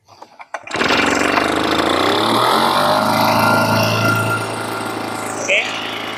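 A Yamamax mist blower and duster engine roars up under throttle after a few quiet sputters, holding a loud, steady revving drone that eases slightly toward the end.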